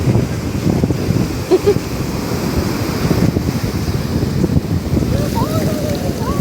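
Sea waves and wind on Puri beach at night, a continuous low roar of surf with gusty wind buffeting the microphone, close and fairly loud.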